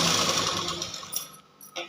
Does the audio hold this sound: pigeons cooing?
no